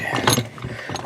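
The gear mechanism of a Thompson or Sears walking sprinkler spins freely after repair, giving a brief close run of ratcheting clicks and rattles.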